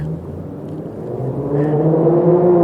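A loud car on Jackson Street in downtown Harlingen, Texas, its engine rumbling steadily and swelling as it draws nearer, with a low, continuous drone.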